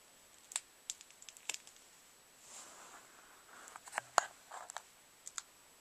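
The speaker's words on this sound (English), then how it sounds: "let's get this tape off of him here." Tape peeled and picked off a cardboard toy gift set box, sparse sharp clicks and crinkly ticks with a brief soft rip in the middle, close and quiet, no speech.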